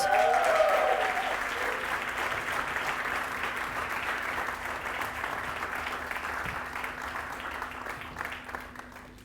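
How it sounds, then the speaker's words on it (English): Warm audience applause greets a group of participants coming on stage at a sustainable impact demo day, a dense, steady clapping that swells at first and slowly fades, with some crowd murmur underneath. "give them a warm applause"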